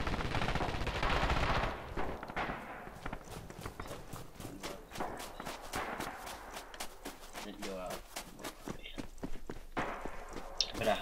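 PPSh submachine gunfire in the Red Orchestra 2 Stalingrad video game sounds as rapid bursts of shots in a steady rhythm with battle noise. The fire runs through most of the clip, with a loud burst at the start.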